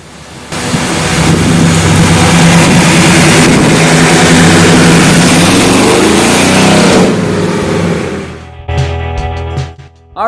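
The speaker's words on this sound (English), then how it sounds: "The 55 Chevy was the first successful Chevrolet with a V8 engine" A 1955 Chevrolet Bel Air V8 roars loud and close in a sustained heavy rev for several seconds, then drops back to a lumpy, uneven idle.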